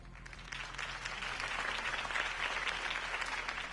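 A crowd applauds steadily after a campaign speech by Harvey Dent in the Telltale Batman video game, a dense, even wash of clapping that holds at a moderate level throughout.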